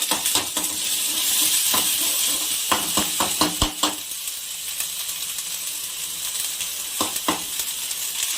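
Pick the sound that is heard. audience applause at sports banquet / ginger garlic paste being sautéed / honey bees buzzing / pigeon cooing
ginger garlic paste being sautéed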